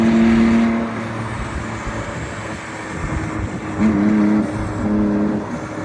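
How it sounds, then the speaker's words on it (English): An Autozam AZ1 with a straight pipe exhaust rumbles loudly and close by, its engine note droning with rasping texture and brief rising revs, heard without talk. "Yep, straight pipe AZ1. Pretty loud."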